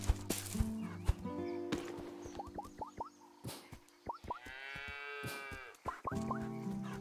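Cartoonish cow moos in a farm-and-dragons video game: several short, bleating low calls with rising pitch sweeps, sounding close and fairly loud over steady looping game music, with no talking.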